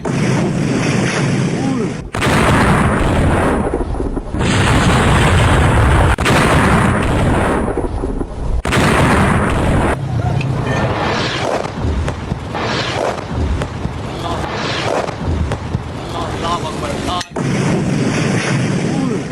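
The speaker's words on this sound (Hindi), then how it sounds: "पाकिस्तान में एक के बाद एक आतंकियों के ठिकाने पर मिसाइल आकर गिरी।" Missile strikes slam into militant hideouts in Pakistan one after another, with heavy booms and rumbling blasts in abrupt, cut-together bursts, loud and close, with voices mixed in at times.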